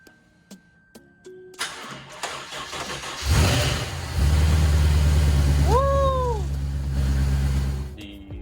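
A supercharged Lexus RC F engine starting up after a rebuild: clicks and cranking, then the engine catches with a loud roar, a rising rev flare, and settles into a deep steady idle.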